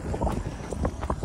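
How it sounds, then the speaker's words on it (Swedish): Strong wind roars steadily outdoors and buffets the microphone throughout, with no voices, beside a cross-country ski track during Vasaloppet training. "Vad fan blåsigt idag."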